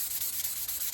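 Light, brief hand rubbing while deburring the gear change shaft of a Yamaha RD500 engine during a rebuild, a faint, even scraping hiss lasting about a second.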